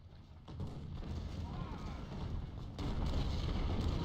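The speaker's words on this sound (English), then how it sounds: "Shoot at Gordon, shoot at Gordon" Distant cannon and musket fire rumble through a battle in the Civil War strategy game Ultimate General, a dense, continuous low roll of booms that swells louder partway through.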